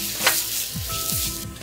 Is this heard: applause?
no